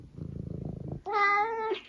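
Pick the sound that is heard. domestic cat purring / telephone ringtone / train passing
domestic cat purring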